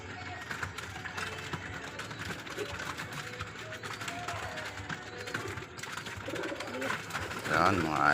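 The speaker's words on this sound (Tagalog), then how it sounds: "Laman siya ng 35 pieces na kalapate." Pigeons cooing and stirring inside a 10 by 4 foot loft holding about 35 birds, a steady close murmur of calls with some mechanical rattling and a voice talking faintly underneath.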